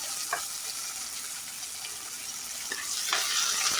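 Ten small onions hit hot oil with fenugreek seeds and curry leaves for a sardine curry, giving a lively, close sizzle with a few sharp stirring clicks and spits, no voices over it.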